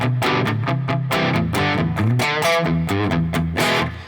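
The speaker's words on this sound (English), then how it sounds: "if I turn the distortion pedal on, and I've just got the gain at 9 here" Electric guitar played through a Tech 21 Richie Kotzen OMG distortion pedal with the gain at 9, a run of loud, saturated picked notes and chords in quick succession, with no talking.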